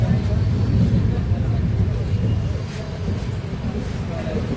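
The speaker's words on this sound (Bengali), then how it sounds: "দমদমে এখন ঢুকলো আমাদের ট্রেন" A train pulls into Dum Dum station in Kolkata, heard from on board as a steady, loud, low rumble that continues throughout, with faint muffled voices in the background.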